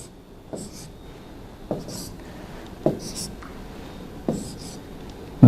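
Pen strokes scratch across paper while drawing a graph for a maths lesson on functions, several short bursts spread through the clip under faint low talk.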